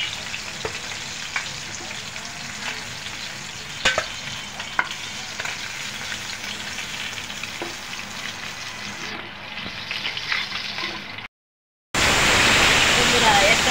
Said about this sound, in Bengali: বন্ধুরা দেখুন মাছ ভাজা হয়ে গেছে